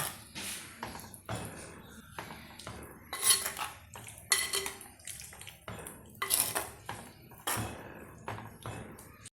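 Metal utensils clatter and scrape against a pot in repeated bursts, a spoon stirring and knocking as boiled tapioca is mixed, close and fairly loud.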